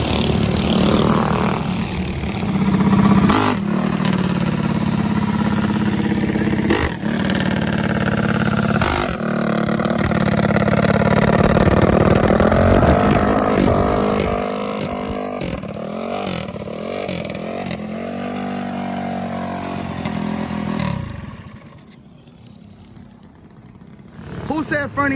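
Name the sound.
minibike engine revving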